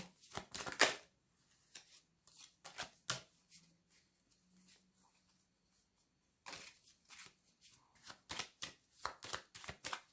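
Tarot cards are handled, shuffled and laid down in quick papery bursts of riffles and slaps, with a quieter stretch in the middle before the brisk card sounds return; nobody speaks.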